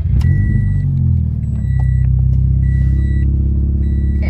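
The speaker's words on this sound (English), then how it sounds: "when I just took my foot off the clutch, it made the noise" A 2019 Toyota 86 sports car engine rumbles loudly and steadily as the clutch is released, with a slight dip and shift in the engine note partway through and intermittent faint high whines above it.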